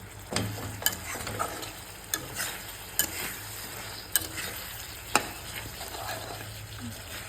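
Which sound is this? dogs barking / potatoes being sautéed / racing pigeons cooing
potatoes being sautéed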